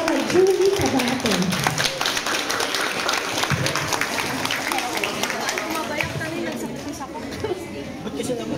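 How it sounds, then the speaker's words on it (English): Applause and cheering from an audience at a medical clinic's anniversary celebration, honoring the clinic's doctor; dense, steady clapping mixed with crowd chatter, fairly loud and sustained throughout. "Please give a round of applause to the one and only Dra.Julie Cabato."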